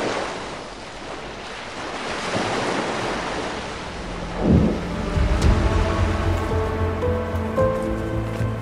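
Sea waves rolling behind an outdoor wedding ceremony in Crete, a broad surging wash with a heavier crash midway, joined later by faint sustained tones from the setting.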